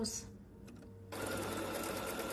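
Sewing machine stitching and back stitching fabric, a brief pause with talk, then a continuous loud whirring run of the needle that fills the rest.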